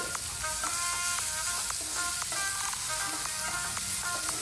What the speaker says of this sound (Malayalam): നട്ട്സ് ചെറുതായി പീസാക്കിയത് ഇട്ട് മൂപ്പിച്ചെടുത്ത് അതുപോലെ തന്നെ റൈസ് മിക്സും ഇട്ട്